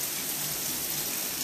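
Heavy rain falls in Dubai, a dense, steady hiss of downpour that fills the short stretch evenly and stays loud from start to finish.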